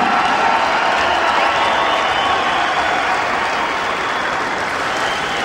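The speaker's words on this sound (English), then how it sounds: "please, a huge round of applause for the very brave and gallant Ross the Boss" A large boxing crowd applauds and cheers for boxer Ross "the Boss" Minter after a WBU world welterweight title fight, a dense, steady roar of clapping filling the arena throughout and easing only slightly toward the end.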